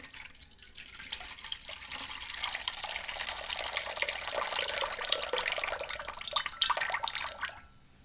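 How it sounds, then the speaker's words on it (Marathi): Barnyard millet is rinsed by hand in a bowl of water in a home kitchen, a close, continuous swishing and sloshing that stops abruptly near the end. "एक 2 पाण्याने धुवायची भगर स्वच्छ."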